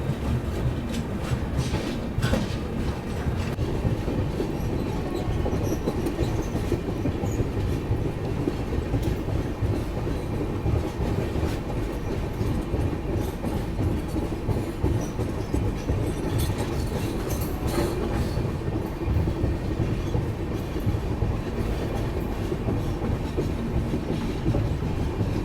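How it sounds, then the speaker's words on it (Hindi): Rajdhani Express running after leaving Madgaon railway station, heard from inside a 3rd AC coach: steady rumbling train noise with rail clatter throughout, continuous and moderately loud, no talking. "तो भाई अपनी ट्रेन बिल्कुल ऑन टाइम निकल चुकी है मडगांव रेलवे स्टेशन के प्लेटफॉर्म नंबर 1"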